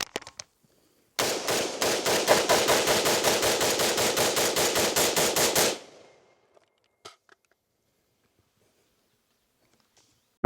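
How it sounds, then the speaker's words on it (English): A rifle fires a rapid burst of about two dozen shots in quick, even rhythm for several seconds, loud and close, followed by near silence with a few faint clicks. "let's shoot some more"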